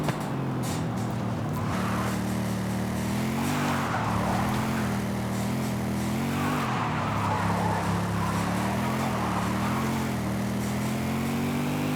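A Mercedes-Benz E55 AMG Wagon drifts in Forza Horizon 5. Its engine drones loud and steady throughout, the pitch swelling and dipping as the revs change, with a faint hiss of tire slip over it.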